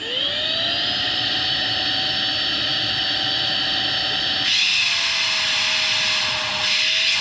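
A small engine fitted with a stock carburetor holds a high, steady whining rev with a strong hissing rush, then the pitch dips slightly as the throttle shifts midway.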